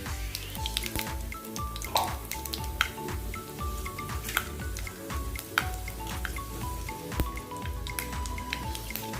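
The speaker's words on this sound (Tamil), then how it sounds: "கத்திரிக்காய் வற்ற அதே எண்ணெயில் இப்போ தாளிச்சிக்கலாம்" Mustard, fenugreek and cumin seeds tempering in hot oil left from frying brinjal, crackling and popping in a dense run of sharp little pops over a low sizzle, close and busy throughout.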